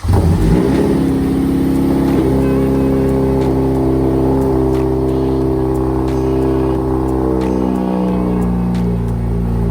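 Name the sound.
car engine cold start revving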